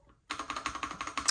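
Fast, even keystrokes on an Astrohaus Freewrite typewriter-style keyboard, about a dozen crisp clicks in a quick rhythm, close and alone after a brief silence.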